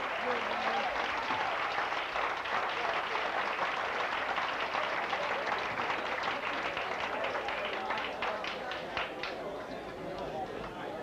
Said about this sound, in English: You just keep applauding.